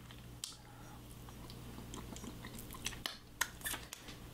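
Someone bites and chews a sticky lollipop with a scorpion inside, making faint, close crunching and sharp cracking bites over a quiet room hum, with the crunches sharper toward the end.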